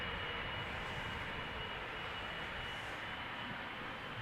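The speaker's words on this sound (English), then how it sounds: "The A350 that is taxiing towards us is Delta Airlines Flight 75. It is an A350-900 outbound to Atlanta." A Delta Air Lines Airbus A350-900 taxies at Amsterdam Schiphol Airport, its jet engines producing a steady, loud broadband roar that holds constant throughout.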